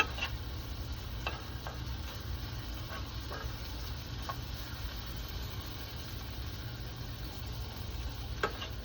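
A spoon stirs food in a pot on a stove while it sizzles over lowered heat. Faint, scattered scrapes and ticks sit over a steady, even frying hiss, with no one talking.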